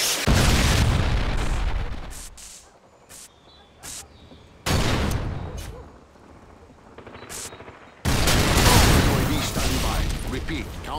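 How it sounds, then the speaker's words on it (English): Explosions and gunfire in the video game Modern Warfare 2 during a Predator missile strike, loud booming blasts and bursts arriving in waves with quieter gaps between, under radio-style game voices. "Friendly Predator missile incoming"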